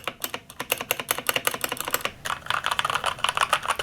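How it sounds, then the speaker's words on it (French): Rapid typing on an Aukey mechanical keyboard with red linear switches, a dense run of close, crisp key clacks followed by a more irregular stretch that includes space bar presses. "Donc ce sont des switches mécaniques Aukey rouge. Je vous fais tout de suite écouter ça."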